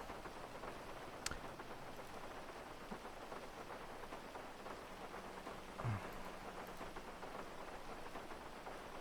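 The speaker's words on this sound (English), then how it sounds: "It's probably because of the rain." Steady rainfall patters across the open world of GTA V, a soft constant hiss with scattered droplet ticks and a faint low rumble, quiet and unbroken throughout.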